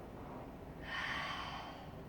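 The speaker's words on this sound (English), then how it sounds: "One more long, deep breath." A single long, deep breath taken during a yoga session, a soft airy exhale that swells and fades over a steady background hiss, close and gentle.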